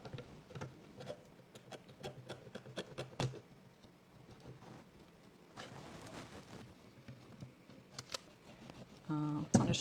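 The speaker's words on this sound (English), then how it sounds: "The scissors again. Cut that through." A run of quick crisp scissor snips close by during Christmas transfer crafting, a brief pause, then more cutting and rustling, ending in a short burst of speech.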